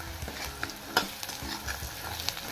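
Onions being stirred and sautéed in a pan for dal palak give a soft, steady sizzle, with light clicks and scrapes of the spoon against the pan.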